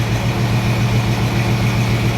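A small block Chevy V8 engine idles steadily nearby, a low rumbling pulse with an even, slightly lumpy rhythm and no revving.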